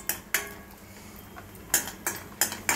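Vermicelli browning in ghee in a pan while a metal spoon stirs it, leaving a few sharp clinks and scrapes against the pan spaced irregularly over a quiet background.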